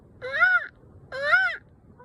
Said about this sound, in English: I think those are raven noises.